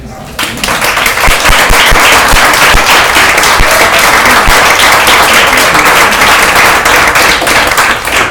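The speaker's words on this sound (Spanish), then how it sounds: "aplauso" A church congregation at a Spanish-language service bursts into loud, sustained applause, dense and continuous for several seconds without a break.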